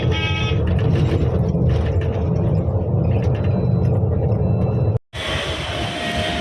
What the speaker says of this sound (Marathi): स्वारगेट मेट्रोने आज पहिल्यांदा प्रवास आम्ही करणार आहे